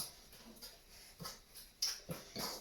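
A dog whimpers and whines in short, faint bursts in a home kitchen, begging for a taste of chocolate cake batter, with a few small high squeaks over a quiet background.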